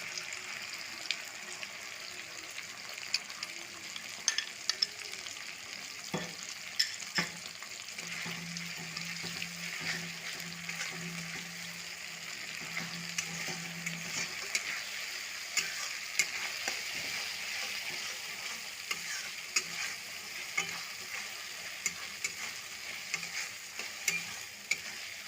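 Spice paste of ground poppy seed, mustard and radhuni fries and is stirred in a pan for a fish curry, with a steady soft sizzle, scraping stirs and a faint brief hum, close and continuous with no talk.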